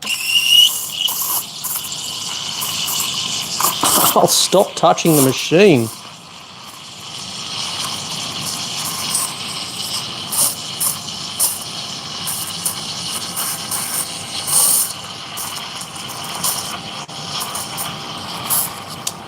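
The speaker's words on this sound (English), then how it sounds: "This is a weird angle to steam milk." A heavily modified La Pavoni lever espresso machine's steam wand froths low-quality skim milk, giving a steady close hiss throughout with a burst of rising, whistling squeals early on, while someone talks over it.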